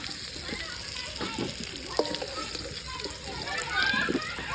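Potato pieces frying in hot oil at an outdoor picnic cook-up, a continuous crackling sizzle with occasional stirring and spattering, while voices talk nearby over the cooking.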